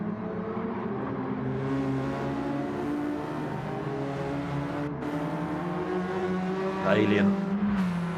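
A race car engine drones steadily in a racing video game, its harmonic whine rising and falling slightly, with a voice speaking briefly over it near the end.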